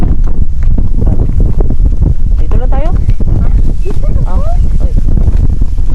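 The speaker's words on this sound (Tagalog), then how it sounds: "Lakas ng hangin, oh, pero maganda." Strong wind roars and buffets the microphone throughout at a zoo in Denmark, loud and continuous, while a person speaks briefly over the gusts.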